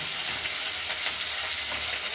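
Sliced vegetables and spices sizzle steadily in a hot pan, a close, even frying hiss with soft scraping as they are stirred, no voices.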